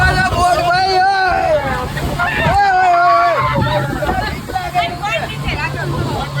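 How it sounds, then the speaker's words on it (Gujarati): A boat pulling in at Pattaya for the trip to Monkey Beach, Thailand, its engine and water sloshing running steadily beneath loud crowd chatter and nearby voices talking. "જો બોટ આવી. હવે આમાં અમારે બેસીને જવાનું છે."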